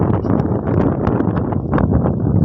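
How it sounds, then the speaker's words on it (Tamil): Strong wind buffets the microphone outdoors during morning livestock grazing, a continuous low roar with rumbling gusts throughout. "காற்று ரொம்ப காற்றடிக்குது."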